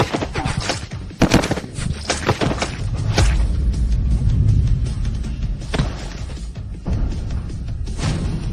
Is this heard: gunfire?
yes